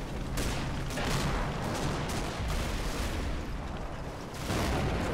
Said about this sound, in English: Was that a rifle grenade? Or like a bazooka or something?